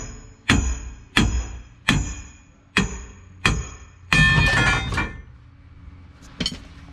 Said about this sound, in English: But I gotta hammer the dashboard back out